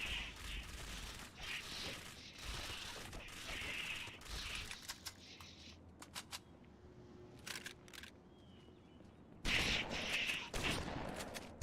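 Loud shotgun blasts in Halo 2 come in bursts, broad and sharp, with a louder volley near the end over steady game background, and no talking.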